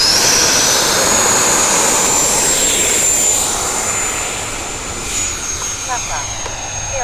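An E-flite F-16 80mm electric ducted-fan RC jet flies overhead, a loud high-pitched whining turbine-like roar with a steady tone that fades and Doppler-shifts as it passes, with someone talking over it.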